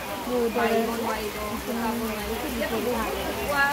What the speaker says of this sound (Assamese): বৰষুণ পুৰা পৰিছে ঢেৰেকণিও মাৰিছে